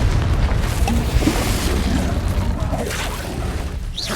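In Hogwarts Legacy, a Confringo fire spell bursts into a heavy, rumbling explosion. The dense low roar is loud and close and rolls on for several seconds with no voices.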